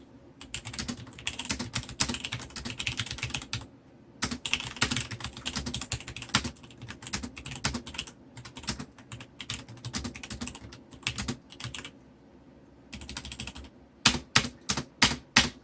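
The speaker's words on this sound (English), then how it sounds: "my thoughts on the Romer G switches, and we'll give you a good kind of audio set here. I'll type something out." Steady typing on a Logitech G810 mechanical keyboard with Romer-G switches, dense close key clatter in bursts with brief pauses, ending in a few louder separate keystrokes.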